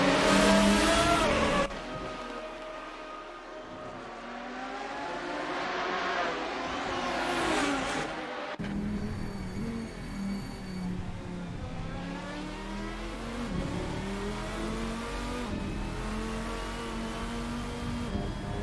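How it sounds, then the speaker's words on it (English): GT race cars lapping Homestead Miami in Assetto Corsa sim racing, engines rising and falling through gear changes with a brief tire squeal as cars run wide, loud and continuous with no talk. "Samoy running very wide at the entrance to P2 though, somehow keeping it under control"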